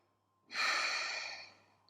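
One long, soft exhale during a vinyasa yoga flow, an airy, close breath that rises suddenly and tapers away over about a second in an otherwise quiet room.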